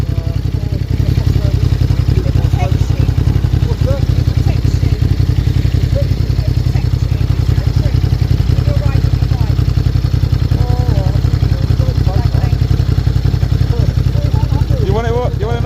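A vehicle engine running right beside the listener at a roundabout in Margate, Kent, a loud, steady low rumble and clatter that dominates throughout, with a few faint voices over it.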